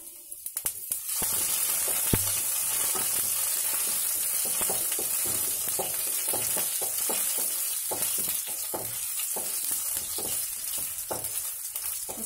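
Chopped ginger, cumin seeds and black pepper frying in a pan for katte pongali, with a continuous bright sizzle and crackle and frequent small pops and spatula taps throughout, no talking.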